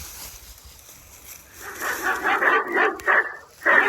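A dog barks repeatedly from a motion-sensor alarm guarding free-ranging chickens, the yaps starting after a quiet opening and coming in a rising burst of sharp, fairly close calls.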